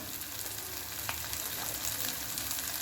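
Ground spices, turmeric, garam masala and red chilli powder, sauté in a pan. A soft, continuous frying hiss runs throughout at low volume, with faint stirring movement underneath.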